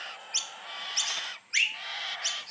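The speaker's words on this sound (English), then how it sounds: "These are baby Tawny Frogmouths." Baby Tawny Frogmouth chicks give four short, high chirping calls spaced across a couple of seconds over a steady background hiss.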